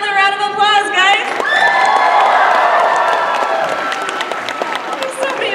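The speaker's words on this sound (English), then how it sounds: "Let's give them another round of applause" Audience at an anime convention opening ceremony breaking into loud, sustained applause and cheering, with shrill whoops and shouts from a large crowd filling the hall, steady and dense throughout.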